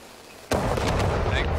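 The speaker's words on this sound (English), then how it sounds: "fireworks!" Fireworks explode in V Rising video game, a sudden loud boom followed by a series of crackling bursts.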